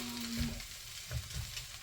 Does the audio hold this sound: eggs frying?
yes